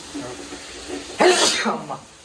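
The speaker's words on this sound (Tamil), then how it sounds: "இந்த ஸ்டேஜில் தும்மல் வருது" A single sharp sneeze bursts out in a home kitchen while spices fry for tomato sauce, following faint background talk, with a breathy hiss trailing after it.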